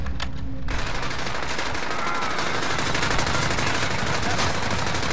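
Rapid automatic gunfire sprays in a loud, dense burst during a first-person shooter video game, the shots running together into a continuous clatter after a brief quieter moment at the start.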